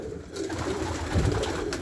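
Pigeons coo softly and steadily close by, a low burbling over a faint background hum.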